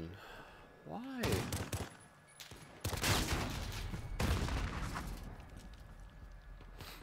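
Gunfire from a Renetti pistol in Call of Duty Modern Warfare multiplayer, heard as loud clustered bursts of shots that crack and rumble through the busy game soundscape for several seconds.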